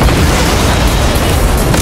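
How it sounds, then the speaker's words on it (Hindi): A loud, continuous roaring blast fills the whole moment, dense and booming like a big explosion up close, with no talking. "क्रीपर को देखते हैं जो एक बिजली के टावर पर अपना ट्रक लाकर मारता है"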